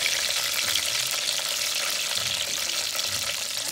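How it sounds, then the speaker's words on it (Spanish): Spring onions sizzle in rendered bacon fat, a steady dense frying crackle that holds close and even throughout with no talking. "Este mismo aceite que soltó, la grasita que soltó el tocino, vamos a poner nuestras cebollitas cambray."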